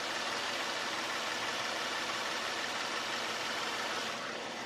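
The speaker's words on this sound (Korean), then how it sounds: "바로 엔진 소리 한번 들려드릴게요" A 2014 Genesis DH G330 V6 idles with a steady, smooth, even hum and hiss that holds constant throughout, with no voices over it.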